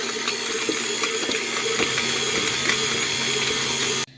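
An electric mixer blends spinach dip in a bowl, a steady whirring drone with faint rattling running evenly at close range for about four seconds, then cutting off abruptly.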